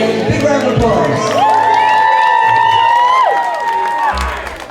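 Wedding guests cheer and whoop in a busy, lively crowd at a reception, with sustained shouting voices and scattered applause layered together and staying loud throughout.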